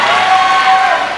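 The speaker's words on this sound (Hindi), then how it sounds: "तालियां तालियां तालियां तालियां तालियां तालियां सब लोग बजाएं यार।" Audience applause at the grand finale of a Himachal dance competition show: a dense, steady wash of clapping across the whole moment, with faint music tones running underneath.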